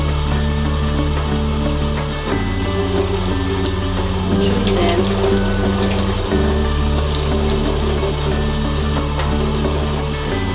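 Tap water runs steadily and loudly into a sink while makeup brushes are washed with shampoo, a continuous close rush with faint handling underneath.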